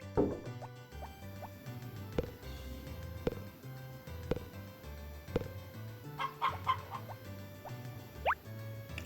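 Hens in a hen house in the Harvest Moon video game give soft, repeated clucks over a quiet looping game tune, with scattered dripping, bubbly effects and a few chirpy blips.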